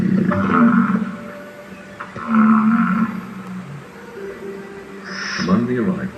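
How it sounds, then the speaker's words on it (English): Burrowing owls on a Badlands prairie in late spring give low, hooting calls in three separate bursts spaced a couple of seconds apart. The calls are fairly close and stand out over a soft outdoor background. "7 burrowing owls."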